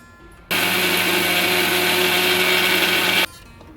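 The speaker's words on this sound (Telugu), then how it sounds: "ఇప్పుడు మనము మిక్సీ పట్టిన మామిడికాయ రసాన్ని వాటర్ పోయకుండా మిక్సీ పట్టుకోవాలి" A mixer grinder blending mango pulp whirs loudly and steadily for about three seconds, starting and stopping abruptly, with quiet room noise before and after.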